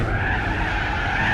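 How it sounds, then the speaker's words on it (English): BMW M3 CSL sliding into a long drift on grass in Gran Turismo 4, a loud, steady tire squeal over continuous engine noise, close and sustained throughout. "Big long drift on the grass."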